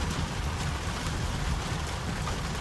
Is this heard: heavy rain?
yes